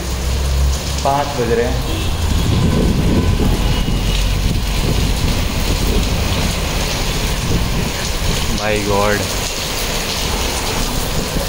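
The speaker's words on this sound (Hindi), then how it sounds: "इतनी तेज बारिश," Heavy rain pours outside in a loud, continuous wash that fills the whole stretch, with someone speaking briefly over it near the start and again near the end.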